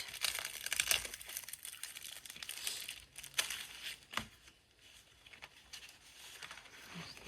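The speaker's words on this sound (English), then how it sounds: "So I'm just going to cut them all up first with my scissors." Scissors cut decorative paper pieces for a floral and gold furniture transformation, giving soft, close snips and crinkling rustles in an irregular rhythm, faint and alone.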